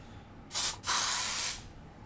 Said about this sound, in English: Well, I'm gonna spray real fast.